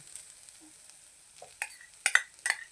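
Grated coconut and poppy seeds roast quietly in a pan over a medium flame, a faint low crackle broken by a few sharper scrapes and clinks of a spatula toward the end, with no voices.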